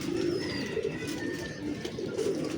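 Pigeons at a loft breeding setup cooing in low, rolling murmurs that overlap continuously, close and moderately loud, with faint chirps and no talking.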